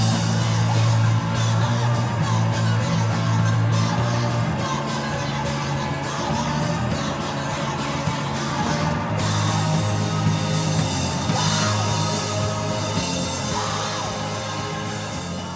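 A female singer of a punk band screams over loud, dense live band playing at a performance, the raw vocal and crashing instruments sustained and full throughout.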